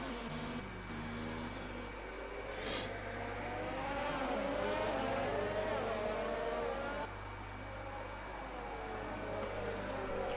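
Race cars in a racing video game lap the Hungarian GP circuit, engines droning and revving continuously at steady loudness, several cars close together, with no talk over it.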